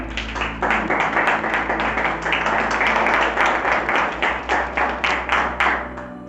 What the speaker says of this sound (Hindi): तालियां, मैंने कहा तालियां।